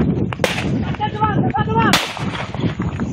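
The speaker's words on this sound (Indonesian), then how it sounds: "polisi memberikan tembakan peringatan ke udara saat hendak menangkap pelaku buronan kasus pencurian mobil" Police warning shots fired into the air during an attempted arrest of a car theft suspect, two sharp loud cracks about a second and a half apart amid background voices and commotion.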